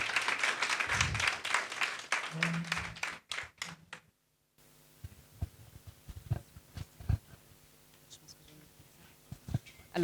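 A burst of applause from an audience, dense clapping that fades out, followed by quiet scattered taps and rustles in a hushed room.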